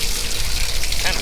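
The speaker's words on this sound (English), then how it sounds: "You want to drink out of a water hose?" Water gushes steadily from a garden hose in a broad, loud rushing hiss, close by, with voices talking in the background.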